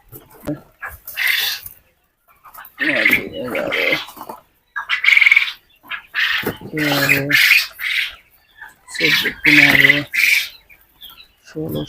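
Birds at a bird-selling farm give loud, harsh squawks and calls in irregular bursts, close by, interspersed with people talking as the birds are handled and counted.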